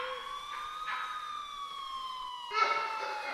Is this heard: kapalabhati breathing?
no